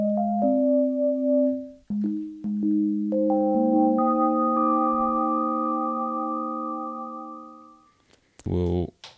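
A UDO Super 6 synthesizer plays a pure sine wave in a short run of stepped notes that climb and hold, a clean steady tone heard alone, ending in a brief burst near the close.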